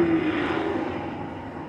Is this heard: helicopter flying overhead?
yes